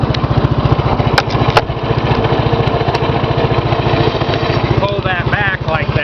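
A Gravely 810 garden tractor with a Kohler cast iron engine runs close by with a loud, fast, even thumping chug, a few sharp metallic clicks, and someone speaking briefly near the end.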